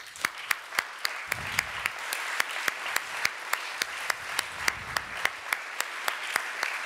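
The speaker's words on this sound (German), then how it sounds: "Applaus" Applause at a regional youth science competition award ceremony in Augsburg, mostly a rhythmic, evenly spaced clapping of a few hands rather than a dense crowd, with faint low murmurs beneath.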